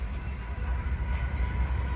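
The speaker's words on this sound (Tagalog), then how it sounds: "Ayun yung train. Mahaba yung train na to." A long train rolls past a crowded park on a Sunday, its steady low rumble and rattle carrying on without a break at moderate distance, with no voices over it.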